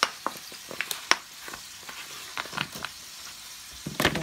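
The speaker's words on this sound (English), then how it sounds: "The pork chop is cooking." Marinated pork chop on the grill, with a faint continuous sizzle under scattered sharp crackles and pops that come irregularly, close by and without talk.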